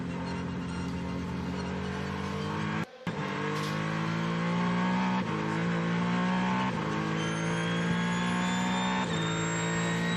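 Onboard a Le Mans race car running on wet tyres: a loud, steady engine drone with harmonics climbing through repeated gear-change upshifts, one sharp brief dropout near the start, continuous and close throughout.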